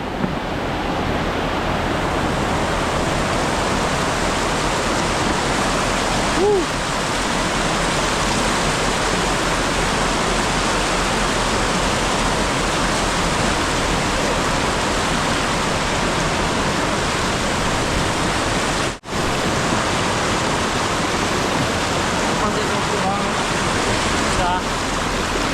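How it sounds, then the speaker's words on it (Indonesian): Rushing river water during a river crossing, a loud, steady broadband wash that runs unbroken for the whole stretch, with one brief dip partway through. "Kita melewati sungai."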